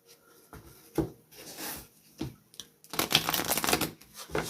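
A spirit animal card deck is shuffled by hand in short bursts of riffling and sliding card noise, close and crisp, with brief pauses between handfuls and a busier flurry near the end.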